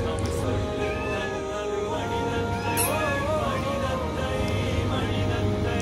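A cat calls out in repeated meows and drawn-out cries, close and fairly loud over steady background noise, with a person speaking nearby.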